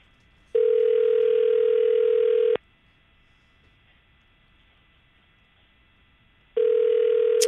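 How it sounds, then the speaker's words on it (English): An outgoing telephone call rings back with two long, steady electronic ring tones separated by a several-second gap, loud and close, with no talk over them. "All right, now it's ringing."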